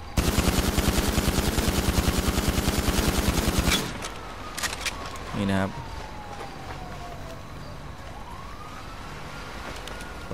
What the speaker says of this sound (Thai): นี่เอพีพิสโตนะ ครับ มันจะเป็นยังไงเดี๋ยวเราไปดูกดค้างกันนะครับ